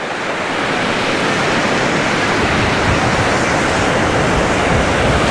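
Steady broadband roar of sea surf on a crowded beach in Anapa on the Black Sea, continuous and fairly loud with no distinct voices standing out.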